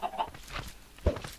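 A chicken in Minecraft clucks a few short times, quiet and somewhat distant, with faint footsteps and soft background game sounds.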